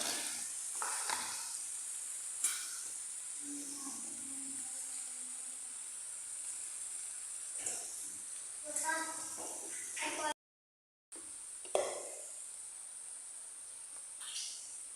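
Paneer curry for a Gujarati restaurant-style dish cooking slowly on a low flame, a continuous high hiss of sizzling with occasional stirring scrapes, while a person talks over it at intervals.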